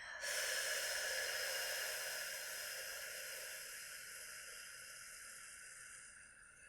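A long, slow breath during a hatha yoga session: a single soft, airy, hissing exhalation, close and quiet, that fades gradually over several seconds.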